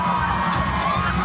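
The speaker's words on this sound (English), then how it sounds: "We have a big crowd." A large audience at the South Pacific beauty pageant crowning night cheers and whoops in a loud, sustained roar of mixed voices filling the venue.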